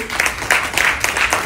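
Applause from an audience at a company's third-anniversary event, a steady wash of many hands clapping with rhythmic swells, fairly close and loud, with no voices over it.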